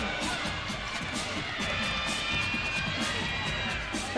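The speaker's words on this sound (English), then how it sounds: "Definitely the crowd's getting really into that." Crowd at a college gymnastics meet, Utah State versus BYU, cheering and clapping through a floor routine, a steady dense roar of many voices with rhythmic claps, loud and continuous.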